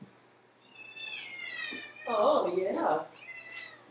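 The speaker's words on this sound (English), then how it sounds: "This is my precious cat" A pet cat named Lucy meows several times in rising, drawn-out cries, close by, while a person talks softly over and between the calls.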